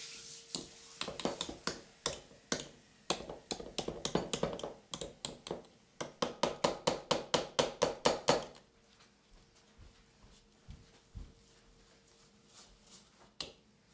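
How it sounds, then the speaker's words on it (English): Rapid clattering taps of a utensil against a bowl, in quick uneven bursts that speed into a steady run, then stop, leaving quiet room noise. "I'm going to mix these ingredients well together."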